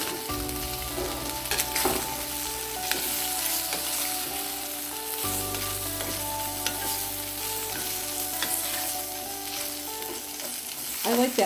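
Food fries in a pan for beer cheese soup, giving a steady, close sizzle that lasts throughout with faint scrapes and clinks of stirring over it.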